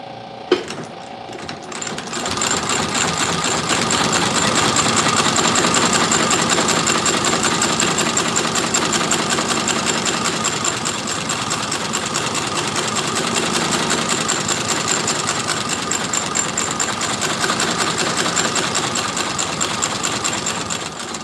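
A stitching machine sews a boot sole in a shoe repair shop, running loud and steady with a rapid mechanical rhythm for about twenty seconds after a brief quiet start.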